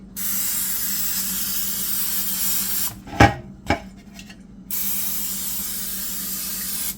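Cooking spray hissing steadily onto a baking pan for lemon pound cake, loud and close, broken midway by a couple of sharp clunks of the can or pan before the spraying resumes.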